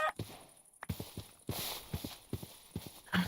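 Horse hooves clip-clop in Minecraft. The steps come as a faint, irregular run of hollow knocks with small gaps between them.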